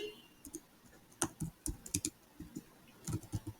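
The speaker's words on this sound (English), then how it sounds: "So I can type get help, help, get help," Typing a PowerShell command on a computer keyboard, a quiet, close series of irregular key clicks in short bursts with pauses between.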